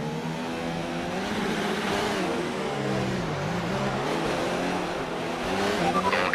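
An F1 race car in F1 2019 pulls away on its formation lap, its engine note rising and shifting steadily with tyre noise, loud and continuous throughout.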